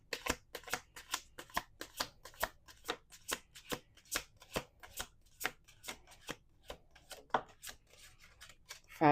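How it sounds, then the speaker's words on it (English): Playing cards are shuffled repeatedly up close, a long series of crisp riffling snaps in a quick, fairly even rhythm with no talking. "Let's do one more shuffle. 2 more shuffles, sorry."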